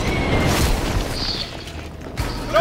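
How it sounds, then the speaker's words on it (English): Longbow grenades in Borderlands 2 blast on impact with the ground, a heavy booming explosion with rumbling debris that fades, followed by another burst at the end. "I got a longbow grenades that detonate on impact with the ground"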